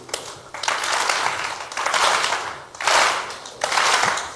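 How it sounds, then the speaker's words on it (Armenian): Audience applause in four bursts, one for each ball thrown in a flash mob at a live event, each swell of clapping lasting about a second with short gaps between, loud and close. "Խնդրում եմ նրա ամեն նետած գնդակին պատասխանեք ծափով։ Մեկ գնդակ, մեկ ծափ։"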